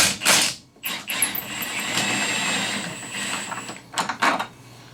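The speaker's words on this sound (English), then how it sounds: "I'm going to go ahead and pull these bolts" Motor mount bolts come out of a Polaris RZR Turbo with close, loud ratchet clicking and whirring mechanical bursts, separated by short pauses.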